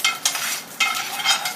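Garlic stir-frying in a pan for a Thai fried rice-noodle dish with egg: bright crackling sizzle with repeated scraping stirs, several bursts of hissing in quick succession, close and alone without talk.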